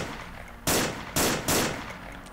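Gunfire in the shooter game Unreal Infiltration during co-op play, three loud close bursts of shots in quick succession against a steady background roar.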